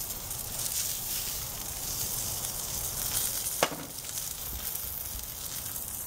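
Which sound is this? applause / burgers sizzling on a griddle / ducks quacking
burgers sizzling on a griddle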